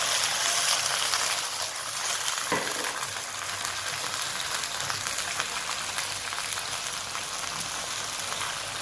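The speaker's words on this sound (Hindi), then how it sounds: "मेरा ब्राउन हो चुका है, इसमें थोड़ा सा पानी डालूंगी।" Browned onions in hot oil sizzle and crackle steadily after a little water is added, a dense, even frying hiss close by with a faint sharp click partway through.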